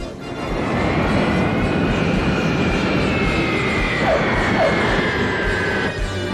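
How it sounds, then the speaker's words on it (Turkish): A fixed-wing airplane lands with a loud, sustained engine roar and broad rushing noise, steady and fairly near throughout. "İşte işte indi. Bir kere biz binebilsek şu uçağa."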